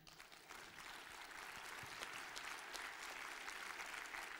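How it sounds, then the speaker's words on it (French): A conference audience applauds as a pharmacist speaker is introduced at a bioethics talk, the clapping soft and distant but steady, building slightly toward the end. "je vous demande de l'applaudir"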